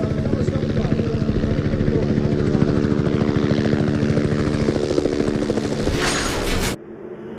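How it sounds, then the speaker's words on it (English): A Bell 230 helicopter's rotor thumps loudly and steadily as it passes close overhead at a GT3 race in New Jersey, with a brief rushing swell before cutting off abruptly. "It's a Bell 230 chopper, and Marine Corps pilot Harold Manzano"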